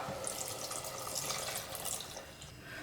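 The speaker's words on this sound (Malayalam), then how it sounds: "ഇനി നമുക്കിതിലേക്ക് നേരത്തെ എടുത്തു വെച്ച രണ്ടാം പാല് ഒഴിച്ചു കൊടുക്കാം" Thin coconut milk pours steadily into a cooking pot of ash gourd olan, a continuous close splashing trickle with no voices.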